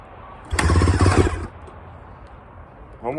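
A Husaberg FE 450 motorcycle engine cranks and sputters for about a second, nearly catching before dying, then a brief second attempt at the end.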